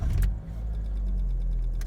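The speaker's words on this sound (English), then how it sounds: "let me check, see if my car's going to start." A car with an unreliable, hit-or-miss starting habit cranks and catches, then settles into a steady close idle rumble with a brief jangle near the end.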